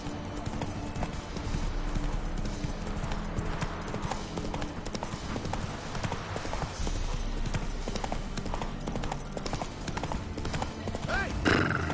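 Hooves of Roach, the horse in The Witcher 3, pound in a fast galloping rhythm throughout, loud and continuous, with a brief whinny-like flourish near the end.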